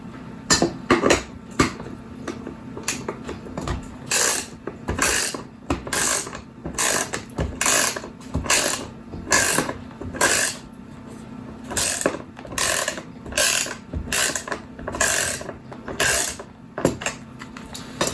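A ratchet clicks in repeated quick bursts while tightening battery clamp fasteners during battery cell assembly, close and crisp, with short pauses between strokes and a low steady hum beneath.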